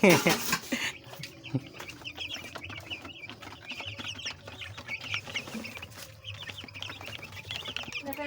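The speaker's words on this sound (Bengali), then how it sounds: "মুরগিগুলো দেখ ম্যাশ খায়" Twelve-day-old chickens cluck and chirp steadily in a busy flock while eating mash, with a louder squawk at the start and a low hum underneath.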